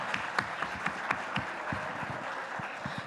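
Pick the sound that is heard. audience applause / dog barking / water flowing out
audience applause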